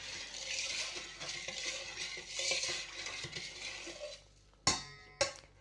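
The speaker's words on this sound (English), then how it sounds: "So just give it a good mix up." A spoon stirs and scrapes through a thick rice pudding mixture in a bowl with soft, wet swishing, then two sharp metallic clinks ring out near the end.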